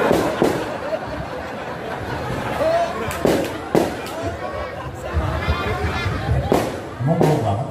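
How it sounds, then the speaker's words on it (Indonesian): Firecrackers set off as a well-known Islamic preacher arrives, heard as sharp scattered bangs and crackles over a noisy crowd, with people chattering throughout. "datang dikasih petasan"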